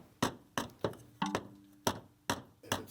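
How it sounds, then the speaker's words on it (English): A hammer taps a bracket into place during AC replacement work on a 2004 Dodge 2500, with eight sharp, close metallic knocks in an uneven rhythm, each decaying quickly, and no talk. "You might need to tap it into place with a hammer"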